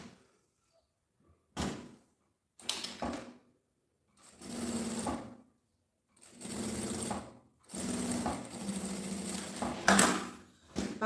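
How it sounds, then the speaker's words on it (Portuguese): A sewing machine stitches bias binding onto plastic for a gym bag, running in several loud close bursts of rapid stitching separated by short silent pauses. "passo uma costura com um pé de máquina"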